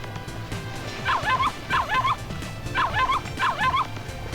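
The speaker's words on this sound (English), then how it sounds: "he looked up to the sky and started barking at something" A small dog in the visual novel Ever17 barks four times in two quick pairs, sharp yips rising and falling in pitch, close and loud over a faint background.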